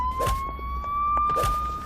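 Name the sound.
police siren ringtone from phone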